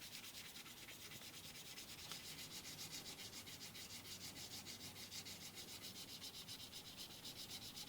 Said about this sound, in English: sanding board that's got some spine to it.